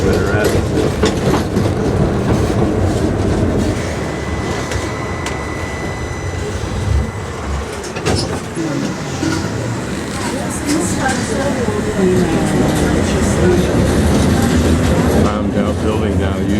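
Interior ride on a city tram in Sarajevo, with a continuous loud rumble, rattling and rhythmic wheel clicks over the rails, plus squeals and a sustained whine; voices are heard under the noise.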